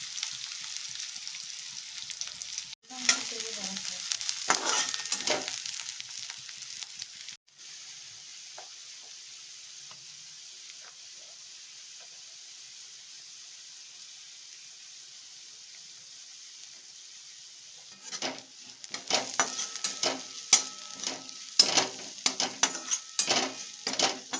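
Onion and masala sautéing in a pan for a river-prawn curry, with sizzling and clinks of utensils in bursts early on, a long quieter stretch of low hiss in the middle, then renewed stirring scrapes and sizzle toward the end.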